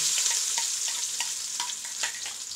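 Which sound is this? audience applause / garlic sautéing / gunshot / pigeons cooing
garlic sautéing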